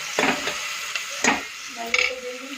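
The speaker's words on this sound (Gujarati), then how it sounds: "મસ્તા દાળ વઘારી કાઢવામાં" Dal being tempered with a sizzling tadka, heard as a few sharp hissing bursts about a second apart over a steady low background hiss, close by with no talking.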